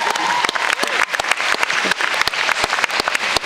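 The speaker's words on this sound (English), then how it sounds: "Give a round of applause if you like." Audience applause at a high school valedictorian speech, a crowd clapping with loud individual claps standing out close by, steady throughout the few seconds with faint voices under it.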